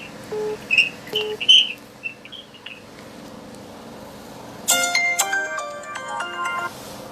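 Telephone ringtone on an outgoing call, a bright electronic tone pattern that sounds in short bursts, then gives way to a denser run of ringing notes near the end, with no talk over it.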